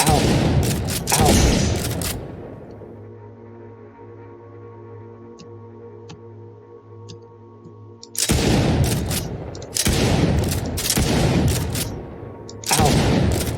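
Shotgun blasts in an Unreal Engine 4 third-person shooter game, loud broadband booms that come in clusters with a ringing tonal lull between them, the last blasts returning after about eight seconds.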